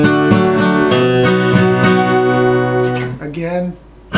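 Acoustic guitar playing a strumming pattern, an open fifth-string bass note on the downstroke followed by up-down-up strums, repeating steadily and close for about three seconds before the strings ring down and briefly fade.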